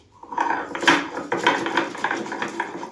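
Cumin, cardamom and coriander are ground on a stone by hand, giving a series of close scraping, knocking strokes in an uneven rhythm, gritty and fairly loud.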